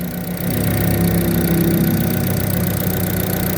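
A Chevrolet Aveo from the 2009–2011 model years idles steadily after being restarted, with a continuous low, even engine rumble and a faint vibrating knock, close and constant throughout with no talk.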